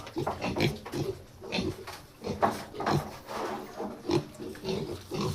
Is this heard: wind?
no